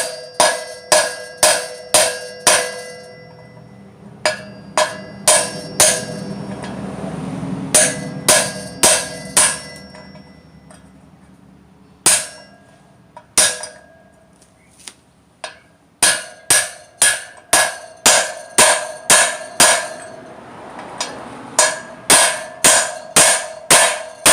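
Sharp metallic hammer taps on a socket ring out in quick bursts, driving a wheel bearing into a Suzuki RM 125 motorcycle wheel, close and loud, with short pauses between series of strikes.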